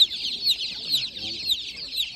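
Pedigree chickens at an animal market in Kolomyia give a steady run of high, overlapping clucks and chirps, moderately loud, with faint crowd noise beneath.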